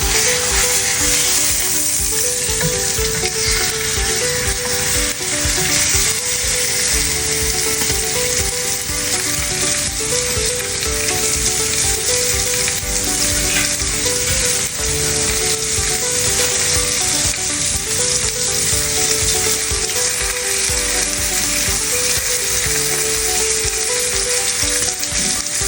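A T-bone steak sizzles and fries steadily in a hot cast iron skillet, a loud continuous crackling hiss that fills the whole stretch, heard close with no voices.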